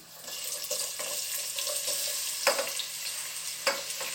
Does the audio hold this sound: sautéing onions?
yes